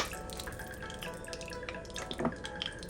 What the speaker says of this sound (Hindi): पटाखे बज रही है, शायद उसके अंदर कुछ पानी था